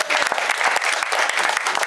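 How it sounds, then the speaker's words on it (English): An audience claps together in a brief, loud burst, dense hand claps with sharp individual slaps standing out, filling the whole moment without a pause. "you say correct, and they all clap"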